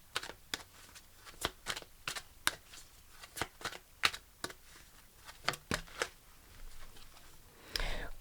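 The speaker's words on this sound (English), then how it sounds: "Let's pull a romance angel card." Angel cards being shuffled and drawn for a romance reading, a run of quick, crisp papery flicks and snaps at an irregular rhythm, close and fairly quiet, with a slightly longer riffling burst near the end and no talking.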